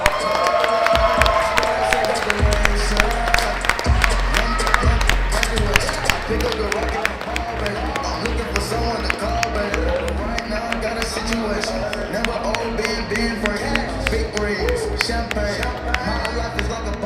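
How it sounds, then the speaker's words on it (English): A crowd at a weightlifting world championship cheers and claps for the new world champion, a dense, loud wash of applause with scattered sharp claps, over background music and an announcer's voice. "Big applause, please."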